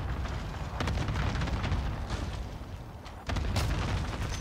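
Airstrike explosions in a video game come as a continuous rumbling barrage of deep booms, loud and close, with a sharp renewed blast partway through.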